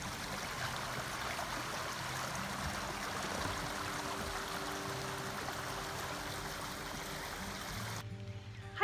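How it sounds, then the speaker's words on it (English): Seasonal creek swollen to a river after overnight rain on a small farm, a steady rushing and gurgling flow heard close by and constant, ending with a brief bump of handling noise. "Our little seasonal creek is a river this morning."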